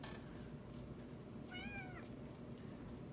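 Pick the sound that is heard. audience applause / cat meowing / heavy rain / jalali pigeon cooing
cat meowing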